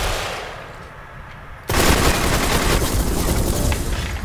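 Video game gunfire erupts abruptly as a dense, loud, sustained burst of rapid shots that fills the soundfield after a quieter opening, close and continuous to the end.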